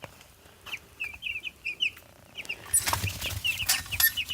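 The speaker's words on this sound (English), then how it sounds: "Chicks are doing what meat birds do." Meat bird chicks at twelve days old cluck and cheep in a brooder, a run of short chirps that grows busier and louder in the second half, several birds calling close by.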